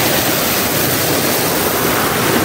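Water pouring from above into a drinking-water source pond in Lamjung, newly dammed and being cleaned, rushes as a steady, loud, broadband roar throughout with no pauses and no voices.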